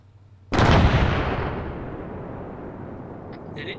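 An explosive charge detonates behind a bunker with a single sudden, loud boom that rolls into a long, slowly fading rumble, followed by faint rattling near the end.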